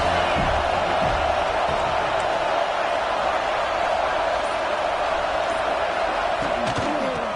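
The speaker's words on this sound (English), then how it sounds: "This crowd ready to make its presence known." Stadium crowd noise in the video game College Football 26, a loud, continuous roar of a large crowd with faint thumps and whoops mixed in.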